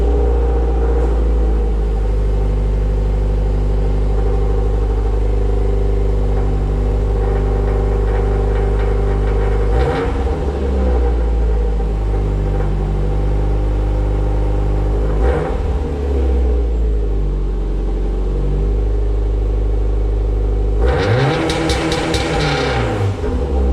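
A Subaru STI with a muffler-delete axle-back exhaust idles with a deep, steady rumble, broken by three sharp revs that rise and fall back to idle, loud and close with no talking.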